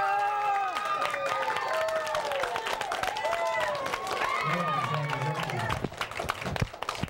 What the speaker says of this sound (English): Can I have a really nice, round, warm applause and a long one, a standing ovation?